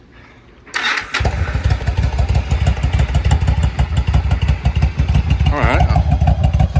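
A Yamaha V-Star 1100 Custom with Cobra slip-on mufflers cranks and fires up after a quiet moment, then settles into a loud, steady, throbbing idle close by; someone speaks briefly at the start.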